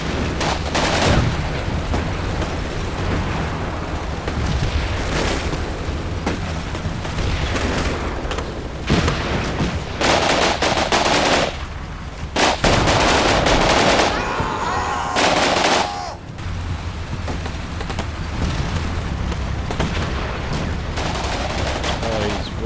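Dense, sustained gunfire and rapid machine-gun bursts fill a battle in the Combat Mission Black Sea war game, loud and almost continuous with brief gaps and heavy booming impacts.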